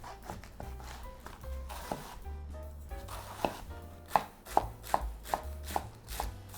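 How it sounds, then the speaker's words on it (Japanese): Cabbage being finely minced with a kitchen knife on a cutting board, a run of crisp, close blade taps that start loose and settle into a quick, even chopping rhythm. "キャベツをみじん切りにします。"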